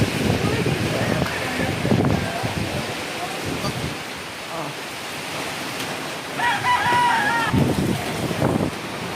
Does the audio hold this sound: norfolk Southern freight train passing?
no